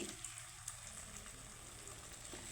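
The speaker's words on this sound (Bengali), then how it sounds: "তো তেলটা গরম হয়ে গেছে আমি খুব একটা তেল দিইনি তো এখন আমি দিয়ে দিব ভেজে নেব" Food fries in a modest amount of hot oil in a pan, a faint steady sizzle and hiss with light crackles, heard close and alone.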